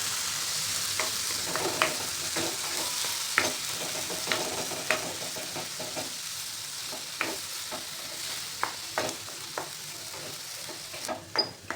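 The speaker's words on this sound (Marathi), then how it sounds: "आता आपण हा संत्रीचा पल्प टाकायचा. हा जसा गरम होईल तसा विरल्या जातो आपण." Orange pulp heats in melted ghee over a full flame for Nagpur orange burfi, giving a steady soft sizzle broken by repeated sharp spoon scrapes and taps as it is stirred.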